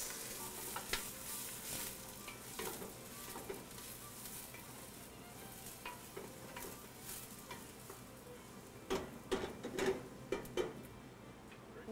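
Garlic and aromatics fry in hot olive oil on a stove, giving a steady crackling sizzle through the whole stretch, with sharper spits and pops clustering near the end and utensil stirring against the pan.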